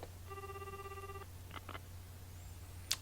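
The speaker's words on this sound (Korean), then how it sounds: "케이마는 바로 누마 씨에게 전화를 한다" A telephone rings once inside the Japanese adventure game Machi: Fate's Crossroad, a steady electronic trill of about one second, followed by a few soft clicks and a brief sharp tick over a low constant hum.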